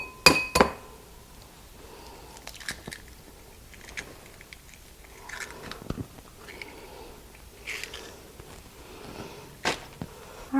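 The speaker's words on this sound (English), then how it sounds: "The next step that you're going to want to do is crack 5 eggs" Eggs cracked one after another into a small glass bowl, giving a series of sharp, close taps and clinks against the rim with quiet pauses between.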